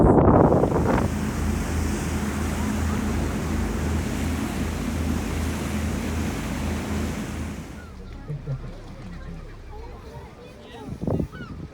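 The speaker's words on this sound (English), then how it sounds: "hopefully you can hear me over the wind" Strong wind blows by the sea at Tenby, a loud steady roar with surf-like rushing across most of the clip before dropping to a quieter gusty hush near the end, with brief faint sounds after.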